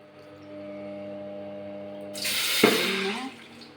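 About a cup and a half of water is poured into a pan while making kozhukattai. After a quiet, humming kitchen, a loud close splash of pouring starts abruptly and runs for about a second before tapering off.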